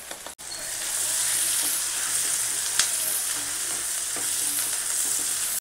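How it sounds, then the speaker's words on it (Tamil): Sliced onions with a pinch of turmeric fry steadily in a hot pan, a dense continuous sizzle that stays loud and even throughout, with a single sharp clink near the middle and no voices. "5 நிமிஷத்தில் நல்லா வெங்காயம் சூப்பராக ஃப்ரைட் ஆயிரும்"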